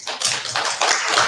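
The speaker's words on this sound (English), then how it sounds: "Please give yourselves a round of applause for coming to this wonderful event." An audience at a keynote event applauds, a dense, steady wash of many hands clapping at once, loud and sustained through the short moment with no voices.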